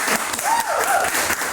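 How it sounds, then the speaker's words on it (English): Audience applause at a talk, a crowd clapping steadily while a voice speaks over it, the clapping fairly close and continuous. "A big round of applause"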